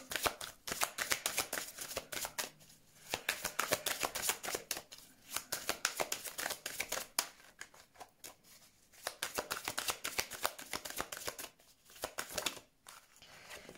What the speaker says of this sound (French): On va tirer quelques cartes pour ce week-end.